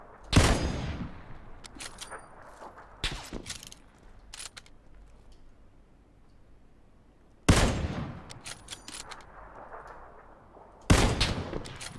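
Gunfire from a shooter video game rings out in sharp bursts, a volley at the start, a few single shots, then two more loud volleys later, with quieter game ambience and mechanical clicks between.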